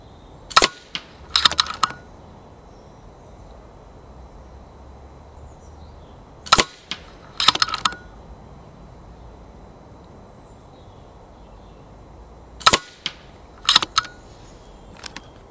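FX Impact M3 air rifle firing outdoors at 30 metres, three groups of sharp shots, each a crisp crack followed closely by a second quick impact snap, separated by long pauses of quiet ambient background.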